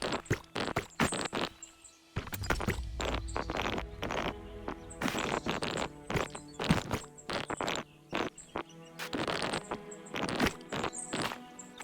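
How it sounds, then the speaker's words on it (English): Horses pulling carts in the Tiny Glade video game, with a steady run of clip-clopping hooves and wooden knocks repeating in quick, close rhythm, briefly pausing before continuing. "I added more carts and horses to make the world feel a bit more alive."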